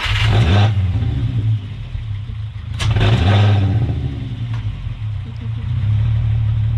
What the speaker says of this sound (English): That's a little V6. Woo! Fired right up.